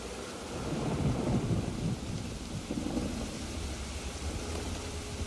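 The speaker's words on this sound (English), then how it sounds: "So you switch it to thunderstorms, so it's 4 Celsius and we get a thunderstorm" A thunderstorm set in the park game Planet Coaster 2 at 4 Celsius, with low rolling thunder over a steady wash of rain lasting throughout.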